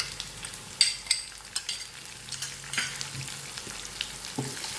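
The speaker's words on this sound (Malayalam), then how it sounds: "ഇനി നമുക്കിതിലോട്ട് നമ്മൾ നേരത്തെ എടുത്തു വെച്ചിരിക്കുന്ന ചെറുള്ളി ഇട്ട് കൊടുക്കാം." Shallots sizzling in a hot pan for a Kerala-style beef curry, a steady soft frying hiss with scattered stirring scrapes and a few sharper clinks, close and moderately quiet.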